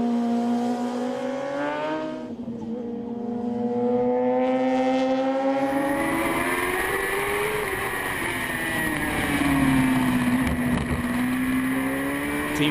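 Sidecar racing engines at the Hungaroring circuit drone loudly and continuously as machines pass, pitch rising and falling with acceleration and gear changes over about thirteen seconds.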